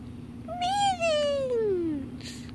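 A pet cat gives a single clear, drawn-out meow that slides downward in pitch, close and loud over a steady low hum, with no one talking during the call.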